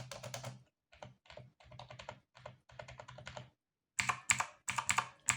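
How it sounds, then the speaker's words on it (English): Rapid clacking of keys in bursts on a Redragon K561-RGB VISNU mechanical gaming keyboard, a quieter stretch of typing followed by a louder, sharper flurry, close and with no voices. "the mechanical keyboard is normally louder"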